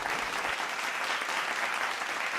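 An auditorium audience at a televised song show claps in a steady, dense burst of applause with no pauses across the whole stretch.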